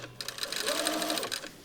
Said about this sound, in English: now I'm going to place a stay stitch on one of the sides